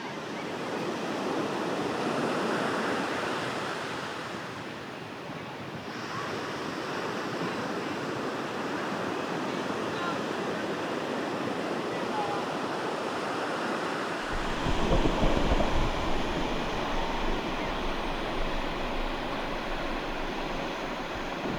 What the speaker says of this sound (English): Just probably better if we get past the big waves.